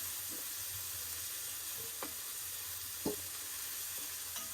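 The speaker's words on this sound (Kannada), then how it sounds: "ಆನಿಯನ್ ಫುಲ್ಲು ಫ್ರೈ ಆಗಬೇಕು." Onions sizzling steadily in a pan while being prepared for egg Maggi, a soft continuous hiss broken by a few brief scraping stirs, fairly quiet and close with no voices.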